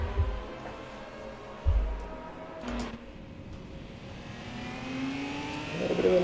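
Virtual touring race cars in an ATCC round at Calder Park, braking into the first corner, engines droning and downshifting at a distance with a couple of low thumps, under a commentator's voice.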